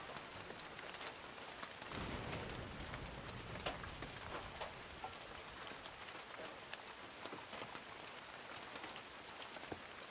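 Steady rain pours in a PS4 game, a dense continuous hiss of drops hitting surfaces throughout, with a brief heavier swell near the start and no talking.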